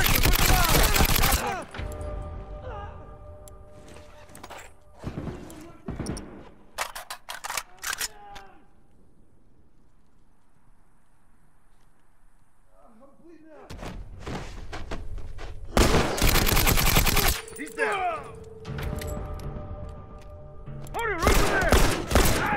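Rapid bursts of automatic fire from the Spectre submachine gun in The Last of Us multiplayer, loud and close in several clustered volleys separated by a quieter lull, with thuds mixed in.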